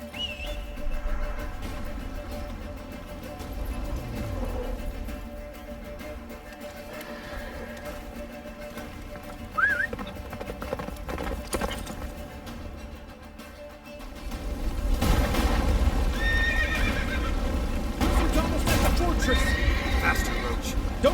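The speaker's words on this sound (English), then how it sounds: "Faster, Roach. Don't stop!" In The Witcher 3 video game, a galloping horse pounds along with a loud, close neigh. Hoofbeats and rumbling motion build toward the end, and voices speak over the action.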